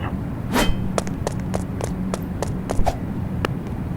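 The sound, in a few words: window smashed with an iron in Roblox video game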